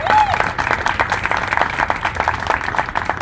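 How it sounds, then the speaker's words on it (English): Audience at a monthly astronomy talk night applauds the speakers, steady crowd clapping with a few voices mixed in, fairly loud and sustained throughout. "another round of applause for our fantastic speakers this month"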